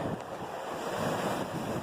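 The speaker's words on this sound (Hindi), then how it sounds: "समुंदर की लहरें" Sea waves wash steadily onto the Karachi shore in a continuous broadband roar, mixed with wind buffeting the microphone and no voices over it.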